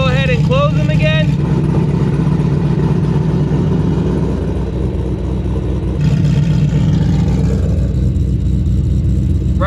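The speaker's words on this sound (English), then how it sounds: "Right back to the Magnaflow muffler where it's nice and tame and we can actually have a conversation" A supercharged Pontiac GTO engine idles through a Magnaflow muffler, a low, steady, subdued rumble heard close, with a person talking over it and a brief whining sound at the start.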